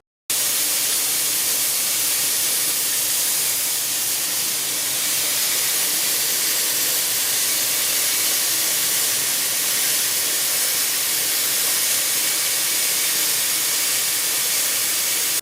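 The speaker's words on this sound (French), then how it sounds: "on peut avoir des fuites à ce niveau-là, dans les changements de direction" Steam hisses steadily from a leaking 90° elbow on a condensate return line in a steam boiler room, a loud, continuous broadband rush with no pauses.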